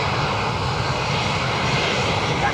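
A Ryanair airliner at Dublin Airport roars past with a steady, loud broadband engine drone that holds constant throughout.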